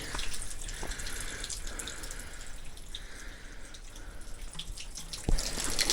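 Cold water from a roadside spring runs steadily into a container, a continuous close trickle and splash with a few small knocks near the end.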